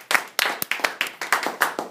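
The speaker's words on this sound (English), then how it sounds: "Let's give them a round of applause." Scattered claps from a small audience after a persuasive speech in a classroom setting, about ten distinct hand claps in an uneven rhythm, fairly close and alone without talk.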